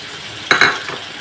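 Vegetables with sugar, salt, chili powder and turmeric being mixed in a pan: a couple of quick scraping stirs with soft sizzle, close and brief, with no talk.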